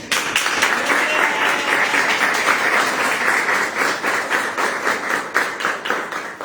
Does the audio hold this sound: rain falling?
no